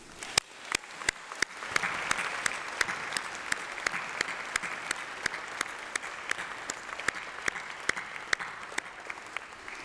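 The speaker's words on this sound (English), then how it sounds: "Please join me in giving them a massive round of applause." A graduation ceremony audience at UCLan claps steadily, a moderate wash of applause with sharp, regularly spaced individual claps standing out nearby throughout.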